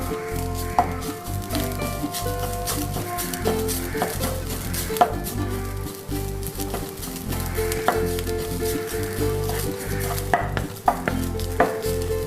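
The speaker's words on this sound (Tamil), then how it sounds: "இதை ஃப்ரை ஆக பார்த்திங்கன்னா உங்களுக்கு அந்த கட்டியெல்லாம் விட்டு விட்டு நல்லா வருது பார்த்திங்களா" Desiccated coconut is dry-roasted in a pan and stirred continuously, making loud, close scraping and rustling with light sizzling and occasional taps of the spoon against the pan, with no talk.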